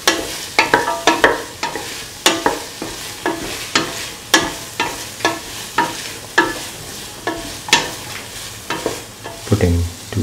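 Cauliflower, potato and rice sautéed in a pan, with repeated scraping stirs over a steady sizzle, close and fairly loud, in an irregular rhythm.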